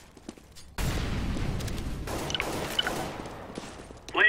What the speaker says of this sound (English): Throwing flashbang. Throwing fire.